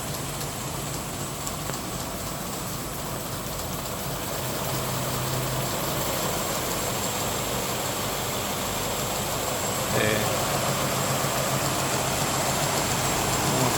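A 2006 Bobst Mistral 110 A2 machine runs steadily, its dense mechanical roar climbing a little as revs rise after about four seconds, with a brief clatter near ten seconds and no talk.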